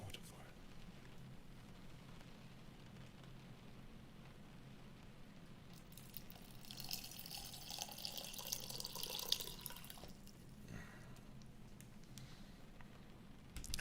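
A tap runs into a vessel in a quiet room, a soft steady stream of water that swells for a few seconds and then stops, faint and close.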